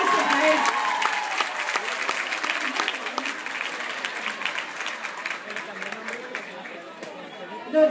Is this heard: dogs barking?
no